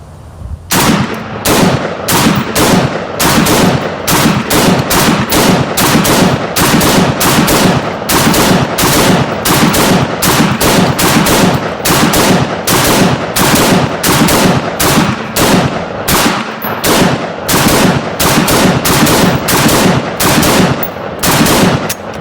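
Rapid gunfire aimed at a civilian armor plate carrier with plates on a shooting range, with dozens of loud, close shots in a steady fast rhythm that continue throughout, separated by short gaps.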